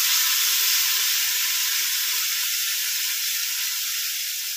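A tempering of fried curry leaves poured into gongura chicken curry sets off a steady, loud sizzling hiss that fades slightly over several seconds, with no voices.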